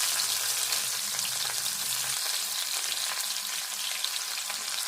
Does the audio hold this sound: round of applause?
no